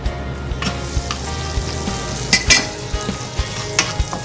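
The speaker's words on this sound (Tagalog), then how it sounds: "Painitan tayo ng konting butter. Dagdag tayo ng konting butter." Butter melts and sizzles in a hot frying pan before beef is added for tapsilog: a steady, close crackling fry with scattered sharper pops and spits throughout.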